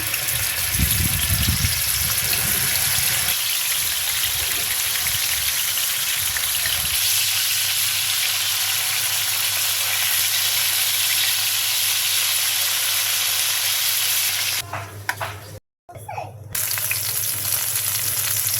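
Pieces of rohu fish sizzle steadily in a hot pan, a continuous loud frying hiss that runs almost unbroken, with a brief dropout near the end and no talking.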